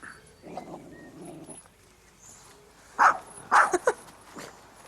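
A dog growls low at first, then lets out three or four loud, close barks in quick succession near the end, with quiet room sound between.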